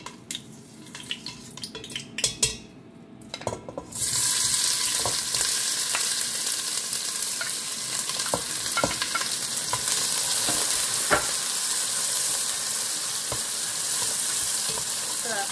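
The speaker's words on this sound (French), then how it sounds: "Je fais revenir les oignons pendant quelques secondes dans l'huile pour rehausser aussi le goût" Onions hit hot vegetable oil for a Chinese cabbage and chicken stir-fry, a few clatters giving way to a sudden loud, continuous sizzle that holds steady with occasional stirring taps.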